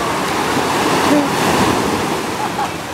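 Ocean surf washes onto a beach in a steady, close roar of breaking water and foam, with wind buffeting the microphone throughout.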